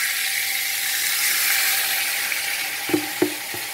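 Pork belly sizzles in a pan with its marinade, a strong even frying hiss close up, then a few quick clacks of a utensil against the pan toward the end.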